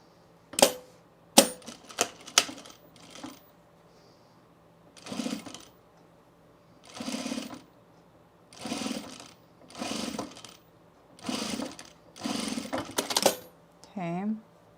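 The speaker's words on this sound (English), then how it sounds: "I need to sew my collar to my neckline." A sewing machine stitches a fleece collar onto the neckline of a quarter-zip pullover in about eight short, rapid bursts separated by quiet pauses, with a few sharp clicks at the start and a brief voice near the end.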